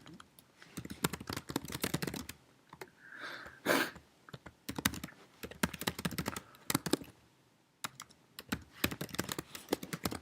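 Typing on a computer keyboard comes in quick bursts of close, crisp key clicks separated by short pauses, with a brief rustle in the middle.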